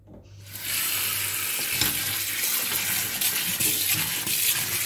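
Tap water gushing steadily over frozen cherries being rinsed in a kitchen sink, a loud, close, continuous splashing hiss that starts abruptly with no talk over it.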